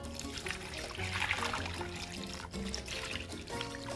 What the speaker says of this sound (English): I'm gonna go ahead and add in our water.